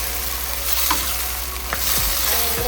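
Chicken stew with soy sauce frying and being stirred in a pan, a steady loud sizzle running throughout with a few soft scraping stirs and light clinks near the end.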